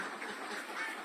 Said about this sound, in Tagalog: Ito po yung itik pateros natin.